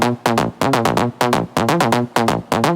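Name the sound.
Serum synth main lead layer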